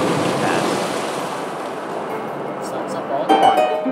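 In the Zelda Skyward Sword HD video game, water is sucked into a vortex with a loud, rushing, surf-like roar that eases off, then splashes briefly near the end.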